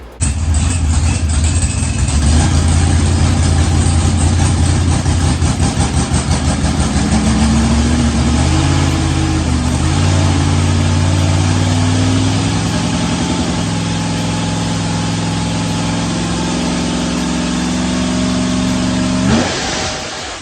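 An LS-swapped Mopar car roars on a dyno pull, its V8 note climbing steadily in pitch for over fifteen seconds at full loudness before abruptly cutting back, with no speech over it.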